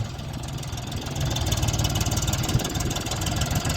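A Lovol 244 tractor's diesel engine chugs steadily nearby, a low rhythmic rumble that grows slightly louder partway through.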